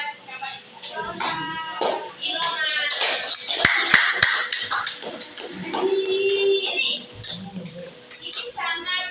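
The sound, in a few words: applause, clapping in a classroom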